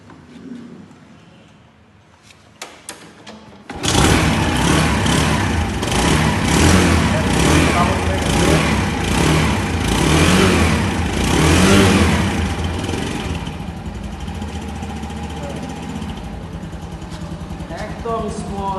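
A Runner 110cc scooter kicks into life after a few faint clicks, then runs loud and close with revving swells before settling to a steadier idle, with a voice speaking over the engine.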